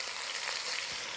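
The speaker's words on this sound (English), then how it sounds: "you want to hear that good sizzle when you put it in" Shredded beef sizzling in a hot pan on a ceramic stovetop, a short, even, hissing fry at moderate level with no talking.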